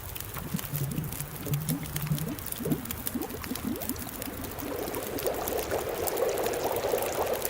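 Snow melting and water boiling in a pot over a fire in The Long Dark, a close continuous bubbling, pouring-like liquid sound with small gurgling pops that grows fuller toward the end.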